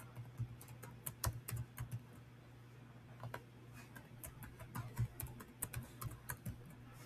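Quiet, irregular taps of a computer keyboard as a password is typed, soft clicks in quick bursts with short pauses, close and alone.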